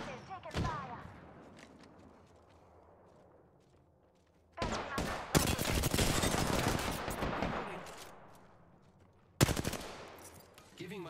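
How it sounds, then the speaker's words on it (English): Bursts of gunfire in Apex Legends: a short shot early, then a long sustained volley of rapid automatic fire, and a final sharp burst, loud against quiet game ambience. "I'm spotted, taking fire."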